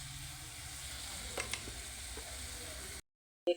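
Spices with salt and turmeric sizzle steadily in a hot pan, a soft continuous frying hiss with a couple of faint stirring taps, alone without talk, then a short silence and a final clack.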